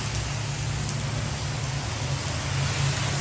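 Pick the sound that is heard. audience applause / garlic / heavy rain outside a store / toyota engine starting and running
heavy rain outside a store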